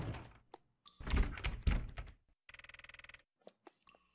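A door in a horror video game being unlocked and opened: a short click, then heavy thunks, a rapid ratcheting lock mechanism, and a few soft knocks afterward, with no talking.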